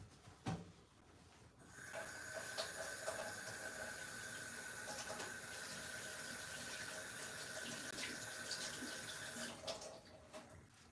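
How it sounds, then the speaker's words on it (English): Running tap water splashes over hands at a sink in a home kitchen, a steady close gush that starts after a short pause and stops near the end. "Let me go wash my hands."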